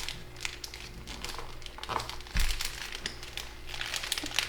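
Sheet paper being folded while making an origami fiddler crab: repeated close crinkles and crisp rustles in short irregular bursts, with one firmer crease-press near the middle and no voices.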